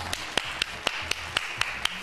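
Sparse, evenly spaced sharp claps, about seven in two seconds, fairly close and moderately loud, like a single person clapping slowly rather than a crowd.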